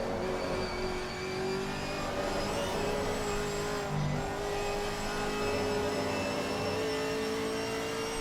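Big race car's engine in a racing video game at Kyalami, droning steadily with tonal whine throughout, set up loose and dropping quickly down the gears, with no talk.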